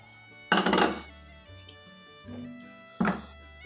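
Raw chicken pieces tumble into a metal cooking pot already holding lentils and water, giving two sharp clattering thunks with softer knocks between, close and fairly quiet.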